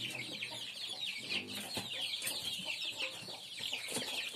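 Chickens and young chicks on a small farm cluck and peep steadily and fairly close, with several birds calling over one another throughout.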